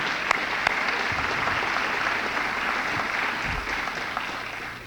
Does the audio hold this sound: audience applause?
yes